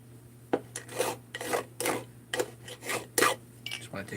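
A CNC thread milled part is deburred with quick, repeated rasping strokes, about a dozen short scrapes in an uneven rhythm, close and fairly quiet, over a faint steady hum.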